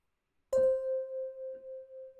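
A music box sample from the Klang tuned-percussion rack device in Reason sounds a single clear bell-like note that rings steadily with a gentle pulsing shimmer, alone and fairly close.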